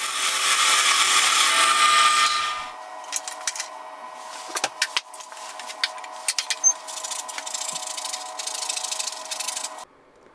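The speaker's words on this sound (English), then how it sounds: "I'm using the parting tool and then we'll finish it off with a saw." A parting tool cuts into a wooden box turning on a lathe, a loud steady whine for about three seconds, then a quieter hum broken by a series of sharp clicks and scrapes.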